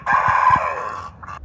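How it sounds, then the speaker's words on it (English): A single close rooster crow from a backyard coop on a small town lot, loud and drawn out, ending with a short tail note. "the rooster would just start crowing"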